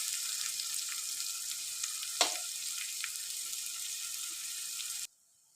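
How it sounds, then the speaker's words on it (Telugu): Onions and green chillies fry in hot oil for a chicken curry, giving a steady close hissing sizzle with a single sharp clink of a utensil, then the sound cuts off abruptly. "ఆనియన్స్ మంచిగా రెడ్ కలర్ వచ్చే వరకు మనం మంచిగా ఫ్రై అయితే చేసుకోవాలి."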